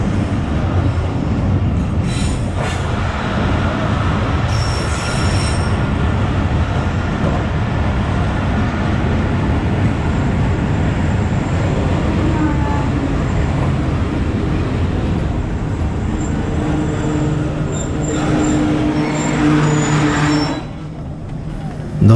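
Mehar Express passenger train rolling along rails between Multan and Kot Addu in Pakistan, a steady loud rumble and clatter of wheels throughout with brief high squeals near the end, voices faintly mixed in.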